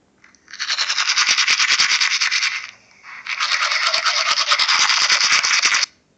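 Steady, brisk scrubbing of a toothbrush against teeth, close up, in two long bursts separated by a short pause.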